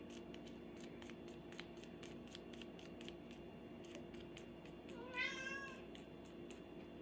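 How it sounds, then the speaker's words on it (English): A cat gives one clear, rising meow about two-thirds through, close and fairly loud against a quiet room hiss with faint, regular ticking. "There's my cat."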